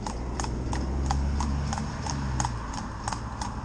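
A riding school mare's hooves clip-clop in a steady, even rhythm of about ten sharp strikes, close and clear over a low rumbling background.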